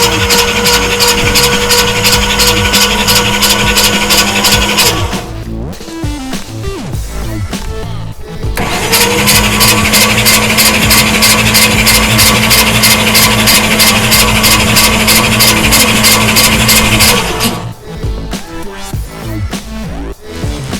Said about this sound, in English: so we can now crank it over on battery power and let it spin around a few times